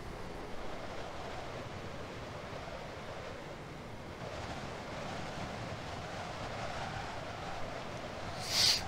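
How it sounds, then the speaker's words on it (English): Steady video game wind from Train Simulator 2018 on the Medway Valley Line, rushing and roaring without pause, a broad even hiss with a faint swell near the end, no voices. "It's very windy."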